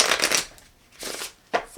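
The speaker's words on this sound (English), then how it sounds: "So we are going to reshuffle all of our cards in." Playing cards being shuffled: three rustling, riffling bursts, the first longest, close by and fairly loud with quiet gaps between.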